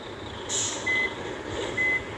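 A bus in a driving video game reverses into a narrow gap inside a shed, its steady repeating reversing beeps sounding in pairs over a low engine rumble, with no talk.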